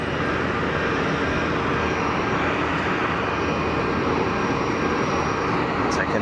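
EasyJet Airbus A320ceo airliner arriving at Geneva Airport, a steady broadband engine roar that holds loud and continuous throughout, with faint voices in the background.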